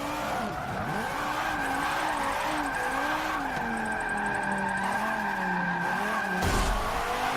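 A drift car slides sideways across a dirt section, its tires skidding and engine droning with wavering pitch rising and falling over several seconds, loud and close, with a brief harsher burst near the end.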